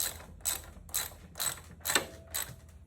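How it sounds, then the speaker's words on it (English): A ratchet tightens the hanger bolts on a Kelpi scrambler motorcycle exhaust, five quick close clicking bursts in an even rhythm, with no talking. "you'll want to tighten up your bolts now that you've got the position of that hanger"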